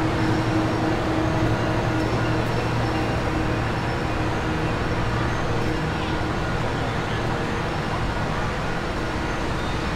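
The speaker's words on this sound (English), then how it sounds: "Goodbye, train. Have a nice trip going north." A train rolls past near San Clemente pier, a continuous broad rumble with steady low hum and rail noise lasting the full ten seconds, fairly loud and close, with a voice talking faintly over it.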